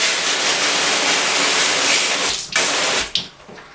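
Hands are washed under a running tap after screen printing, a loud, steady rush of close water that breaks off twice into short splashes and drips near the end.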